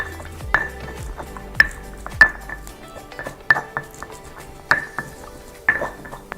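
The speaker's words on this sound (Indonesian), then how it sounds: "Jadi sekarang saya mau ulek bahan bumbu-bumbu buat ilahe" Chili and other spice ingredients pounded with a stone mortar (ulek) while making Gorontalo fish soup, giving sharp knocks at an uneven pace of roughly one per second, near and fairly loud, with faint kitchen background.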